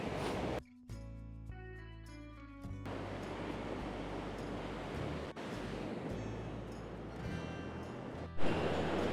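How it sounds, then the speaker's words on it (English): Strong ocean surf on a rough-weather shore at Corringle Slips Foreshore Reserve: a continuous broad roar of breaking waves with wind buffeting the microphone, after a brief tonal passage at the start. "The waves are so strong, we're not used to fishing in this weather."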